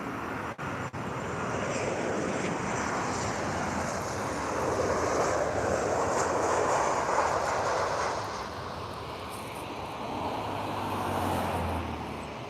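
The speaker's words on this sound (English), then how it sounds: "Boeings for you guys, 737 Ryanair." A Ryanair Boeing 737 jet airliner gives off a broad, steady roar at moderate distance, swelling in the middle and then easing off, with no talk.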